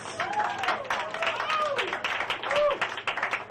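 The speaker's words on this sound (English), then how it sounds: "clap your hands for Mr." A comedy roast audience claps as a comedian comes to the stage, giving a steady scatter of applause with voices talking and calling out over it.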